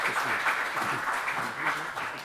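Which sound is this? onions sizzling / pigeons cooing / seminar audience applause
seminar audience applause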